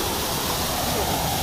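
The Salto de la Sirena waterfall in Cafayate pours in a steady, dense rush of broadband noise, continuous and even throughout with no breaks, heard fairly close and alone.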